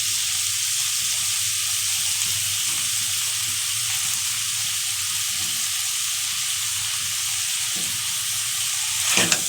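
Soaked peas sizzle in a pan of frying liver masala, a loud, continuous close-up hiss of hot oil with stirring underneath and a brief clatter near the end; nobody speaks.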